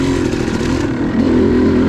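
A Yamaha YZ250 two-stroke dirt bike runs on a wooded OHV trail, its engine droning loud and close in a steady, buzzy tone with small surges in throttle throughout.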